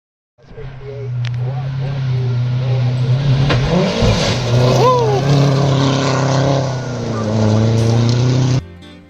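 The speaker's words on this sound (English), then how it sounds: "And here's one of the buggies coming through." A racing buggy tears through a gravel rally stage at the McCreary Gravel Rally 2024, its engine roaring loudly as it passes close by, with pitch sweeps as it revs and shifts before cutting off abruptly.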